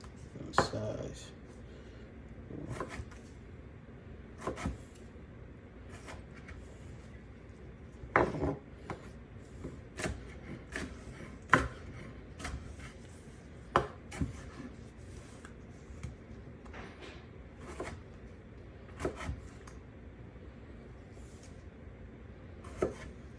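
Knife chopping tomato on a cutting board while making shrimp tacos, a long run of sharp, irregular taps close up, some louder than others, with low kitchen background hum throughout.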